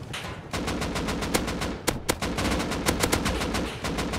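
Rockets explode during a base raid in the survival game Rust, a dense barrage of sharp blasts and crackling gunfire-like bursts rapidly overlapping, loud and continuous with a few harder hits standing out.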